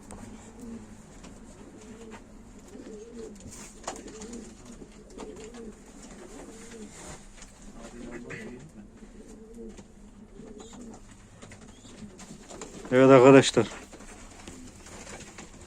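Pigeons coo softly throughout at a live Turkish pigeon auction of play pigeons, a steady low murmur of calls under a voice, with a brief louder burst near the end.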